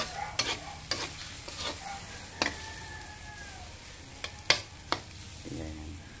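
A utensil stirs food frying in a pan, giving repeated sharp scrapes and clacks at an uneven pace over a faint, steady sizzle, close by with no talking.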